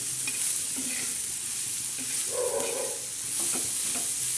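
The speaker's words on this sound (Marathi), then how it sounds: "आता झिंग्याची चटणी अशी चांगली तळून घ्यायची" Prawn chutney with dried fish and green chilli fries in a pan, a steady close sizzle with occasional stirring scrapes and a brief louder crackle midway, no voices.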